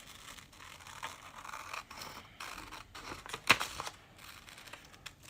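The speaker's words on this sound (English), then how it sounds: "I just have some scissors here. Just cut this out real quick" Scissors snip through a paper template at a pottery workbench, several close, crisp cuts with rustling paper between them and one sharper, louder snip partway through.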